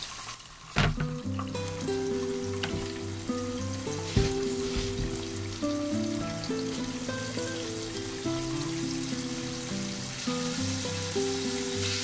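Breaded chicken pieces fry in hot oil, a steady close sizzle and crackle running through the whole stretch, with occasional louder pops and clatter over a background of musical tones, no talking.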